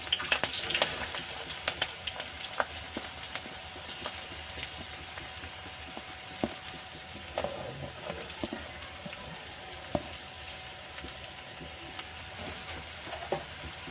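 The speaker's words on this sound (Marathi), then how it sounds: "आता आपण टाकणार आहोत कांदा" Onion added to hot oil for set dosa and potato sago, sizzling and crackling steadily with scattered pops and occasional stirring clinks, close and fairly quiet, with no talk.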